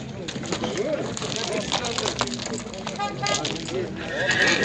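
Horses whinny amid the bustle of the Sokuluk livestock market near Bishkek, with a few neighs and hoof sounds heard close among people talking over a busy crowd.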